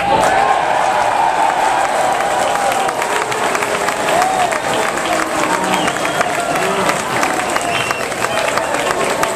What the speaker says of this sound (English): you're going to jump up and you're going to cheer really loud